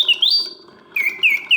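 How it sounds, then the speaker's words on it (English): A vintage Karl Griesbaum mechanical singing bird in a cage whistles bright, warbling oscillating notes in short chirping phrases, with a brief pause between the opening trill and the next run of clear, loud tweets. "So the bird sings with full voice, hitting all of the proper oscillating notes"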